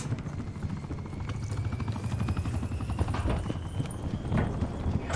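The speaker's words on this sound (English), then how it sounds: "Attack chopper available for tasking." Attack helicopter in the Call of Duty Black Ops 4 multiplayer game, a steady rotor thump and engine drone running through the whole stretch alongside gunfire and game effects, at fairly loud level.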